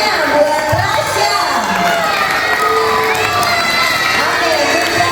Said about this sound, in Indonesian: Tepuk tangannya buat Rasya.